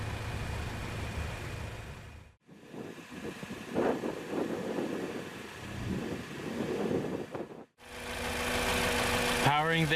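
The 2-liter turbocharged four-cylinder engine of a 2017 Lexus NX200t idles with a steady low hum and light mechanical chatter, heard under ongoing talk, with brief dips and a change of tone near the end.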